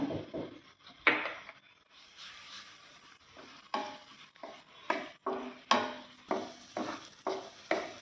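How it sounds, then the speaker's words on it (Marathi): Ginger, chili and garlic paste sautéing in a tablespoon of oil for a pea filling, with a soft sizzle under repeated rhythmic stirring scrapes of a spoon in the pan. "एक टेबलस्पून तेल घेतलं आहे आलं मिरची लसूण वाटलेली आहे ती थोडीशी परतून घेऊया"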